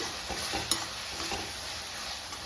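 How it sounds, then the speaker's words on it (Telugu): Tomato and tamarind frying in oil for a moringa leaf chutney, a steady soft sizzle with a few light scrapes of stirring and one sharp clink, close and alone. "నూనెలో టమాటా మరియు చింతపండు మంచిగా వేగింది."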